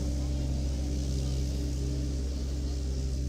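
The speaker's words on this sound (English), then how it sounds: "As the tractor just passed us again." A tractor mowing grass at a cricket ground passes close by, its engine giving a steady, loud, low droning rumble throughout with no pause.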